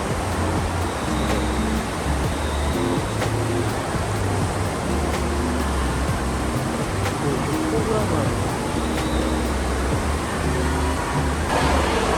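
Steady roar of crashing water in a wave pool at a large water park, with excited voices calling out over the constant churning surf.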